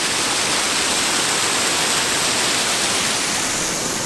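Waterfall pouring onto a beach on the Oregon coast, a loud, dense, unbroken hiss of falling water close by, steady from start to finish with no voices.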